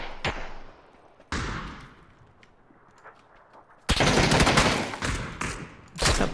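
Gunfire in the PUBG video game: a few sharp single shots ringing out with short echoing tails, then a loud sustained burst of rapid fire followed by another shot near the end.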